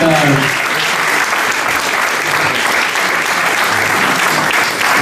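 A conference audience applauds a speaker with loud, sustained clapping that fills the room throughout.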